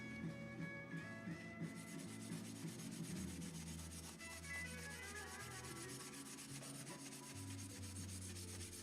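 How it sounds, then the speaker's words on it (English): A scouring pad scrubbing an antique: continuous rough rubbing strokes, close and steady throughout, with no talking, over a faint background hum. "I have a different type of scouring pad."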